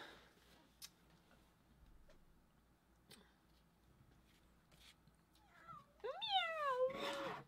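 A house cat meows near the end, a rising then falling cry after a few quieter sounds, with soft room noise underneath.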